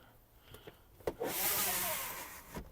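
Trunk cargo cover of a 2010 Skoda Octavia sliding and retracting: a few faint clicks, then a soft whooshing roll lasting about a second, ending with a light click, close by and quiet.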